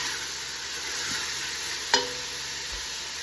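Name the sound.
vegetables sizzling in pot for Tuscan soup, heat turned up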